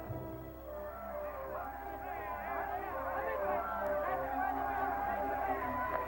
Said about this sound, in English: Big crowd here today.